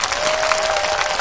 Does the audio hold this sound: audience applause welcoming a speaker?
yes